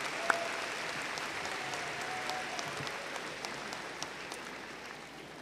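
Graduation audience at a Dallas high school ceremony applauding, a steady wash of many hands clapping that sounds somewhat distant and even, with a faint tone running underneath.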